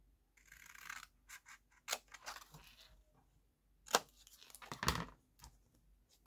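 Scissors snipping around the edge of a paper card, a series of crisp, close, quiet cuts in irregular bursts with soft paper rustles between them.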